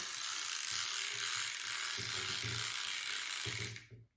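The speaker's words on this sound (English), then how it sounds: "You've engaged the ratchet pawl. Then you can crank it." A Ravin R26 crossbow crank is wound after its ratchet pawl engages, giving a continuous close whirr with a rhythmic low clicking ratchet beneath it. It stops abruptly near the end.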